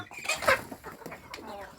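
Three-month-old domestic chickens on a farm, being fattened on pig feed, cluck and chatter close by in a brief, busy burst, one call standing out loudly near the start.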